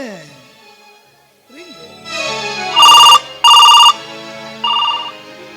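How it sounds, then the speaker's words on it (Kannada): A telephone rings in three loud electronic bursts after a brief voice and soft background music, during a stage comedy drama. "ಫೋನ್ ಬೇರೆ ಬರ್ತಾ ಇದೆ."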